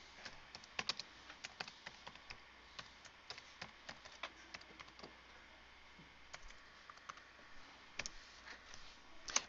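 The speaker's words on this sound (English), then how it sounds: "or I can just type the information." Quiet typing on a computer keyboard, a steady run of light, irregular key clicks with occasional heavier taps, heard close and alone.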